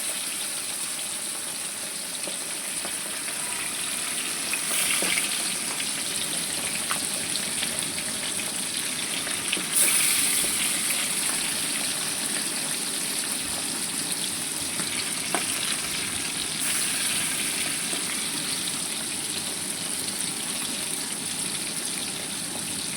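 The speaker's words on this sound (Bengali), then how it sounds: "আমি এখানে সব মাছগুলো একসাথে দিয়ে ভালো করে হালকা ভেজে নেব।" Several fish fry together in hot oil, a continuous even sizzle with faint spattering crackles, heard from a little distance.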